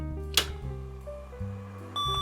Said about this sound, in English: the beeps that are heard are due to a badly inserted pin of the character's ROM on the video card